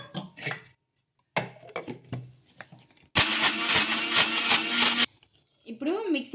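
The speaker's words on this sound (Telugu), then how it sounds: "ఇప్పుడు ఇందులోకి కొన్ని నీళ్ళు అయితే వేసుకొని మెత్తగా మిక్సీ అయితే పట్టుకుందాము" A kitchen mixer grinder whirs loudly for about two seconds as it blends leftover rice with water into a smooth paste. A person talks before and after the burst.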